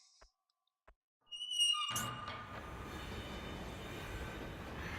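A train in a platform video game pulling away from the station after its doors close, a sudden loud burst of rolling, rumbling noise that swells and then holds steady to the end.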